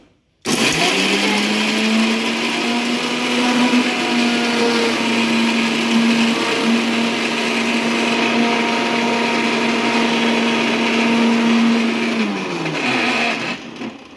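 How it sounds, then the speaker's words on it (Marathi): A mixer grinder whirs loudly and steadily, grinding coriander stems with ginger-garlic paste for pav bhaji, a constant close motor drone running about twelve seconds before winding down. "मिक्सरमध्ये टाकणार आहोत हे आपण."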